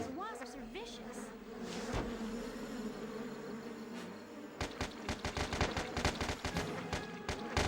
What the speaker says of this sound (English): These wasps are vicious.